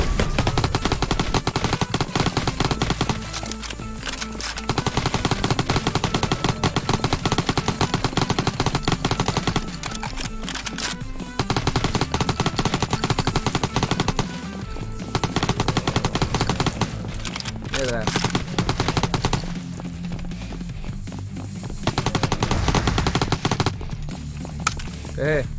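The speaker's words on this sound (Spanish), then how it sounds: "Yo ya disparo a lo loco." Rapid automatic gunfire in a zombie defense video game, long sustained bursts of loud shooting broken by a few short pauses across the whole stretch, with someone talking over it.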